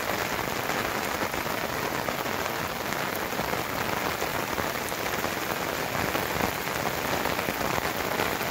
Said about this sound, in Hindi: मेरे चारों तरफ आप देख सकते हैं बहुत तेज बारिश हो रही है।